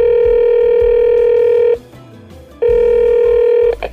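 A telephone ringback tone sounds as a call is placed: two long steady buzzing tones separated by a short pause, loud and close, with no voices.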